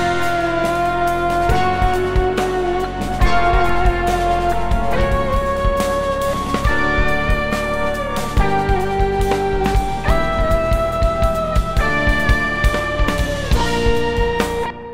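Processed kick drum pulsing steadily through a dense jazz mix, its hits punching along underneath sustained harmonic instruments throughout, loud and continuous with no talking.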